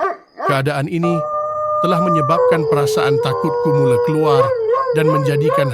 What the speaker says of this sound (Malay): aku terdengar bunyi anjing menyalak datang dari belukar jalan sebelah kananku